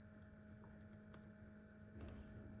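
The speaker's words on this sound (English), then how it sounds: "you're struck by the sound of crickets in the distance" Crickets chirp at night in a pine forest near a campfire, a steady high continuous trill that is faint and distant, with a few soft rustles and no talk.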